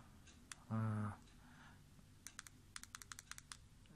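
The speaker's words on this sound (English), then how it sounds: "So 5 clicks should power the device on." Five quick button clicks on a Teslacigs Sliver pod vape, faint and close, in a short rapid series after a brief louder tonal beep or hum.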